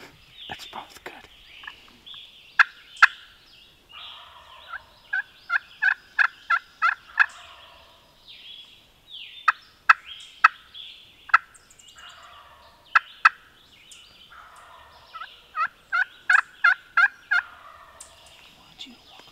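A wild turkey gobbler on public land gives rapid gobbling calls and repeated bursts of sharp clucks and yelps, fairly close in a quiet outdoor setting with no voices.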